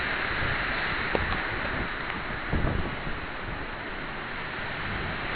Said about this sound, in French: La pluie est là.